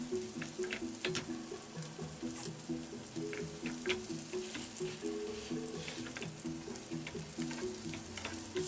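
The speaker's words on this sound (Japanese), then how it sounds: "オイルを回しかけながら 優しくゆっくりと火を入れていきます。" Pork sauté frying in a pan while hot oil is spooned over it, a steady close sizzle with scattered crackles and pops throughout, soft tonal music underneath.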